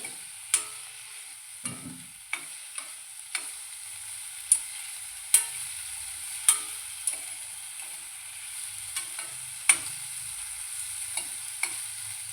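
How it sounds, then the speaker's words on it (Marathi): Dosa chutney ingredients fry gently in a pan under a soft hiss, with a spatula tapping and scraping the pan in irregular sharp clicks every second or so, heard close and without talk. "मी थोडंसं आता मऊ होईपर्यंत तळून घेते."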